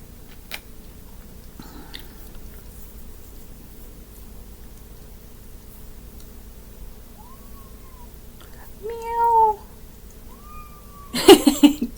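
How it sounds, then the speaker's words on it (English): A domestic cat mews softly several times as it walks around a person in a quiet room; the short, rising mews fall in the middle of the clip, followed by a louder rustling clatter near the end. "He's walking around me, making his little mew mew sound."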